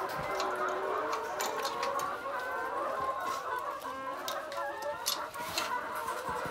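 Many chickens cluck and call together at close range inside a chicken farm coop, a busy overlapping chorus that continues throughout with no talking.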